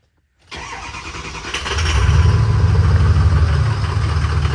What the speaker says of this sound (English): let me let you hear the truck real quick